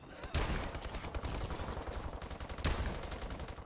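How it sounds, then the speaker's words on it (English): Guns fire in Call of Duty Advanced Warfare Zombies, a loud, close barrage of rapid continuous shots with a heavier burst near the start and another just past the midpoint. "We can use our guns again."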